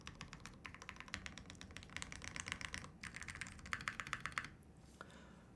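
Mechanical keys clacking on a Link65 keyboard sitting directly on a bare desk with no pad, fast continuous typing bursts with short pauses, close and crisp with a hollow rattle, no talking.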